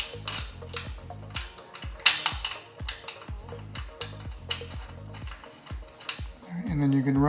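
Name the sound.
screwdriver driving screws into locking mechanism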